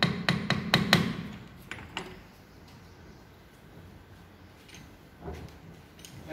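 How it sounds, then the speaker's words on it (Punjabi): A hammer tapping a stuck four-jaw lathe chuck, a quick cluster of sharp metallic knocks at the start, two more after a short pause, then near silence and one final faint tap near the end. "ਇਹਨੂੰ ਪਹਿਲਾਂ ਆਪਾਂ ਥੋੜ੍ਹੀ ਜਿਹੀ ਹੈਮਰ ਦੇ ਨਾਲ ਥੋੜ੍ਹੀ ਜਿਹੀ ਸੱਟ ਲਾਵਾਂਗੇ।"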